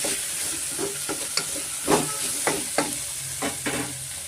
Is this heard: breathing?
no